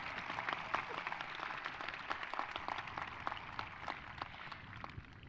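An audience at a high school graduation claps steadily for several seconds, a faint, even patter of applause from a distant crowd.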